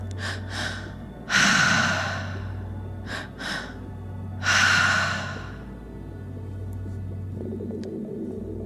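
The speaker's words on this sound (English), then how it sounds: "breathing into that space, continuing that breath" Deep breaths during a breathwork exercise: several long, close inhales and exhales with short gaps between them, each swelling and fading, over a quiet steady hum, with no talking.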